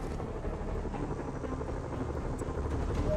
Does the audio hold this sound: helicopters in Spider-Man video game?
yes